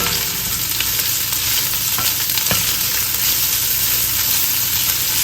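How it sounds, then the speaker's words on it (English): Beef sautéing in a pan for an ale-marinated beef grilled cheese gives a steady, close sizzle and frying hiss, with a few stirring scrapes breaking through now and then. "Saute this up."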